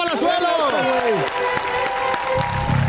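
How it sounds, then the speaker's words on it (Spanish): A late-night talk show audience applauds for Roberto Palazuelos, with clapping running under loud voices and tonal sounds that dominate the start, then thinning toward the end. "Un aplauso a Roberto Palazuelos."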